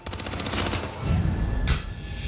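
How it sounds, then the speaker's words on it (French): Rapid gunfire aimed at the player in Hitman World of Assassination rattles in dense, repeated shots over about two seconds, loud and close, with a heavier burst near the end. "Oh là, je me fais tirer dans tous les sens."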